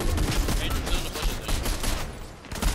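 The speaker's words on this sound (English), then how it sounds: "we're getting shot at from behind" In Fortnite Reload, gunfire comes from behind the player as a dense, continuous barrage of shots, loud and close, with no clear gaps between them.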